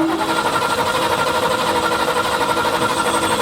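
A 1966 Ford Ranchero engine is cranked over on the starter, a loud, fast, steady mechanical chatter that continues without catching.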